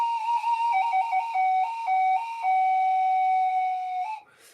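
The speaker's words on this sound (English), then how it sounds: "even using the ocarina and the fun whistle" A fun whistle played in a meditative music improvisation, a clear sustained tone that steps between a few pitches before settling on one long held note, then stopping.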